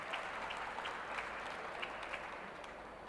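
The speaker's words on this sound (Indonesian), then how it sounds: "Tepuk tangan buat Farison." Soft, distant applause from an audience at the launch of a commercial electric vehicle, an even patter of clapping that fades slightly toward the end.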